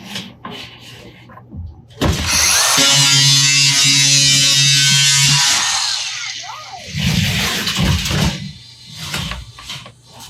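A worn cheap cutting blade on a race car build bites into metal in one loud, sustained grinding whine of several seconds, then gives way to clattering handling noises and brief voices.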